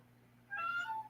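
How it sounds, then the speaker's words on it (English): A pet cat named Smokey gives one clear, drawn-out meow close by, after a moment of quiet room hum. "And yes, that's a cat you're hearing."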